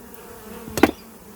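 Honey bees buzz around an opened Flow Hive during a hive inspection, a soft hum with one brief louder close buzz as a bee passes near.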